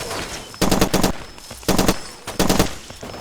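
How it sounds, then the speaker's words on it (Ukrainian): Machine gun fire in the video game Far Cry 2, loud close bursts of rapid shots in three or four volleys separated by short pauses. "Зато кулемет випробував."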